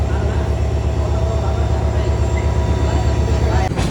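Inside a moving passenger train in the dining car, a loud, constant low rumble and rhythmic rolling hum fill the space, with a brief rattle near the end.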